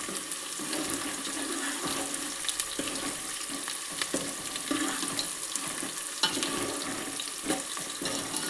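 Cardamom, stone flower and mint leaves fry in a pan for chicken curry, giving a continuous close hiss and crackle with scattered stirring scrapes.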